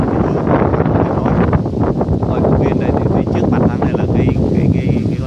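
Loud wind buffeting a microphone outdoors beside a river, a continuous rough rumble and roar throughout, with a person talking underneath.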